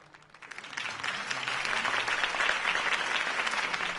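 Applause from a large crowd in Batman: The Telltale Series swells in after a quiet start and continues steadily, dense clapping filling the scene.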